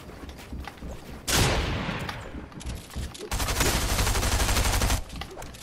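Gunfire in the video game Fortnite, Tilted Towers: a sudden loud burst followed by a decaying echo, then a sustained rapid volley of shots lasting nearly two seconds, with no voices.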